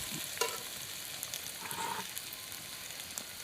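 Chicken pieces for a Bengali home-style curry fry in a pan with a steady, soft sizzle, broken by a few scraping stirs, heard close and alone.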